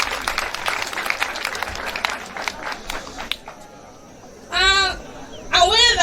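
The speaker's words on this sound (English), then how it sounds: "I beg we clap for that." Students passing their exams at Aha Ryeru School in Uganda receive lively applause from a gathering for about three seconds. The clapping dies away into near quiet, then a voice starts speaking.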